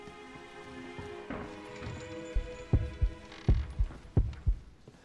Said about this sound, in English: it's a little scary when you guys mimic my heartbeat